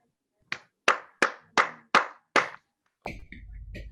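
Six sharp, evenly spaced hand claps ring out close and alone, followed by a brief rustle and a faint voice.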